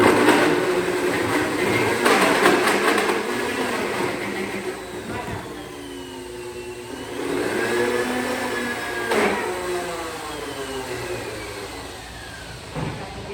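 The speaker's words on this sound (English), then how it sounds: "And we're gonna blend that." A countertop blender churns a smoothie of frozen strawberries and bananas, giving a steady, close motor whir that shifts in pitch as the frozen fruit breaks down. A voice can be heard faintly now and then.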